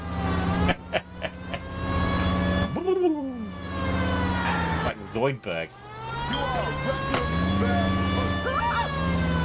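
A wailing police siren in a video game rises and falls steadily over engine noise and crashes, with someone talking excitedly over it.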